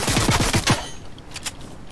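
Video game gunfire rings out as a rapid burst of about five close, sharp shots, followed by fainter, more distant shots.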